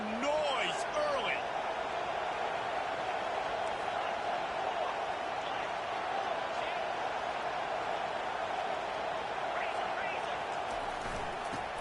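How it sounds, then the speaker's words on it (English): Steady stadium crowd roar from the Madden football video game, a dense, continuous wash of cheering and murmur at moderate distance, with faint voices scattered through it. "This crowd bringing the energy and noise early."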